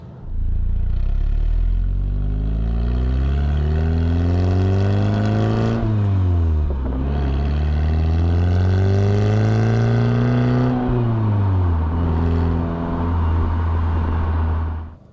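A $600 supercharged Mercedes drives on the road, its engine note rising steadily through the gears with three clear shift drops, loud and close throughout, with no talking.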